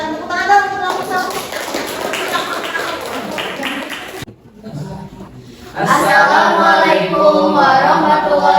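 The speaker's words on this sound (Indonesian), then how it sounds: "Silakan tepuk tangan dong untuk kelompok 1." A university classroom applauds a student group, with tapping claps, chatter and laughter, a brief lull midway, then louder clapping resumes.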